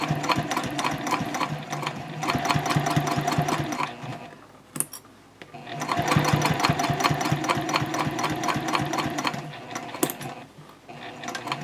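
A sewing machine runs in long steady bursts, basting the top of a bowler bag, with a rapid mechanical stitching rhythm and a brief pause between runs.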